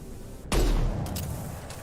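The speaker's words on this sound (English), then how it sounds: "Firing an impact shot" A single impact shot fired from a sniper rifle in Mass Effect 2 lands as one loud, heavy boom with a low thump, then fades into a lingering rumble and ambient game noise.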